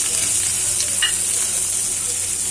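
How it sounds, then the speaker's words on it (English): Onion sizzles in a pan of hot oil with jeera, methi and saunf, a steady bright frying hiss close up with a few faint stirring clicks. "Okay, we are going to toss in the onion now."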